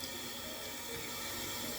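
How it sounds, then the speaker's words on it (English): Lukewarm water runs steadily from a tap to wet damaged hair or a wig, a continuous close hiss of flowing water with no talking. "Now I'm just going to wet the hair,"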